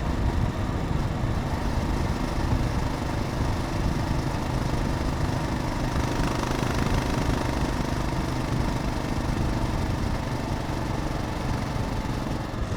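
A Royal Enfield Himalayan motorcycle hums steadily while commuting in traffic. A continuous, moderately loud engine drone mixes with wind and road noise throughout, with no voices.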